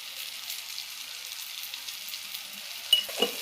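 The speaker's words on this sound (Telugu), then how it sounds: "ఒక స్పూను అల్లం వెల్లుల్లి పేస్ట్ వేసుకుందాం. ఇది పచ్చివాసన పోయేంత వరకు వేయించుకుందాం." Ginger garlic paste frying in a pan for a simple brinjal fry, a steady soft sizzle throughout with a couple of brief stirring knocks near the end, no voices.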